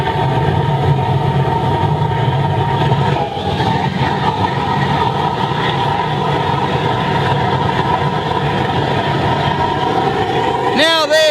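A large aluminium-scrapping melting furnace burner roars at full tilt with a loud, continuous broadband rush, close and sustained, while a person talks over it and a brief metallic clatter lands near the end.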